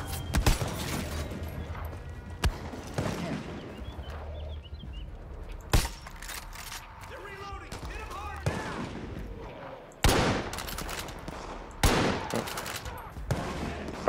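Gunfire in the video game Far Cry New Dawn: several loud, sharp single shots and short bursts ring out at irregular intervals, with game ambience between them and a player talking over the action.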